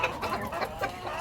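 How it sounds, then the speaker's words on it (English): Backyard chickens clamoring for feed give soft, rapid clucks and low squawks at close range, several birds overlapping in a short, busy burst. "So these are our chickens. They're now crying for feed."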